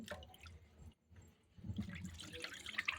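Rice and lentils are washed in water, giving soft, faint sloshing and dripping with a brief lull in the middle before the splashing picks up again.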